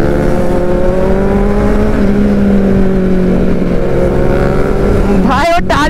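A Kawasaki Z900 motorcycle's engine drones loud and steady during a wheelie, holding its pitch under crowd noise, then swings into a sharp rising-and-falling rev near the end.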